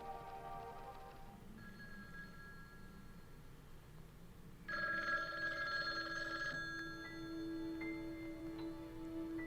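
An old telephone rings in a film scene, its bell tone fairly close and steady, starting softly and then growing louder partway through, with no talking.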